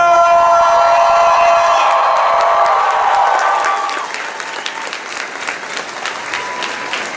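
Loud applause and cheering from a convention audience at Wizard World Chicago Comic-Con, a dense burst of clapping with whoops that fades to scattered claps.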